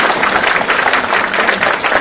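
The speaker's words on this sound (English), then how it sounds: "let's give a huge round of applause to our Chief Guest, the Honorable Governor, Sri P.S. Sridharan Pillai" A crowded audience applauds the chief guest, the Honorable Governor Sri P.S. Sridharan Pillai, with dense, steady clapping that stays loud and close throughout, with no talking over it.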